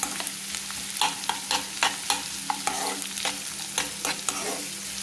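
Sliced onions for chicken curry are stirred in a hot pan, a spatula scraping in a steady series of sharp clicks and scrapes over a continuous low sizzle, close and moderately loud with no talking.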